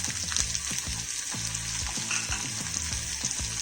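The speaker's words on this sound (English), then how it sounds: "Once the onions get lightly sauteed, I'm going to add in finely chopped green chilies and along with this, coriander leaves." Onions sauté in a pan with finely chopped green chilies and coriander leaves, giving a soft continuous sizzle under rhythmic scraping and knocking from a spoon being worked through the mix.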